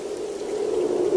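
Steady rain falls in a cartoon story scene, a dense even patter that stays constant and fairly loud for the short moment, with no voices over it.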